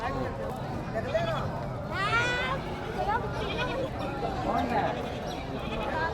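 Many goats bleating at a busy Rugri Haat livestock market in Jharkhand, repeated cries near and far over constant crowd murmur, with someone talking throughout.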